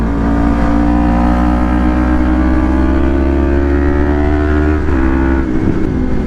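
A Yamaha MT03 motorcycle engine drones steadily while riding, a loud, close sustained hum with a brief dip and stutter near the end.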